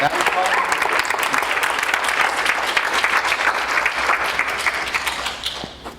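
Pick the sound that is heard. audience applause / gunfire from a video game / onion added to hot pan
audience applause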